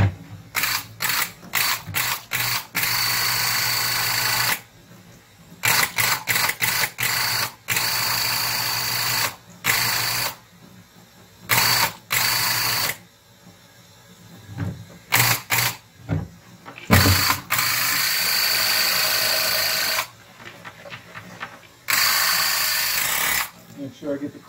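A Graco TrueCoat Plus II airless paint sprayer runs in repeated bursts, a loud hissing whine starting and stopping, with short quiet gaps between spray passes, spraying into a sink.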